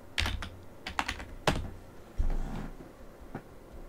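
Someone types a password on a computer keyboard while logging into the Ajenti panel on a Debian server, producing short clustered bursts of key clicks with brief pauses, close and fairly quiet, with no talking.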